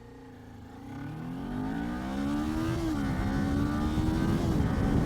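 A 2019 Kawasaki Ninja 400 motorcycle pulls away hard from a green light, its engine note rising steadily and growing louder over several seconds, close and continuous, with no talk.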